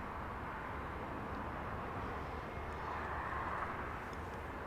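An airplane taxiing for departure on Taxiway Echo at Los Angeles International Airport, a steady broadband engine rumble and whine, moderately distant and constant, with no talking.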